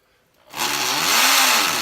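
Hammer drill boring into a concrete basement wall to fasten studs; after a half-second of near quiet, a loud, steady, harsh grinding roar kicks in and holds close up without pause.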